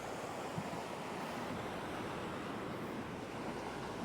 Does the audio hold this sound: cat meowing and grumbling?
no